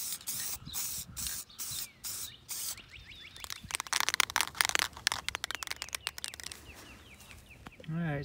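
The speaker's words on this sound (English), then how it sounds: "here's the second coat for the acrylic spray" Acrylic conformal coating aerosol hissing in repeated bursts onto a circuit board, short sprays at first, then a longer run of quick, uneven spurts close to the microphone.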